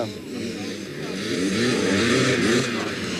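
Several 500cc motocross motorcycles at a 1999 Namur race rev their engines hard as riders pull wheelies, a continuous loud engine roar that swells and holds, with a commentator talking over it.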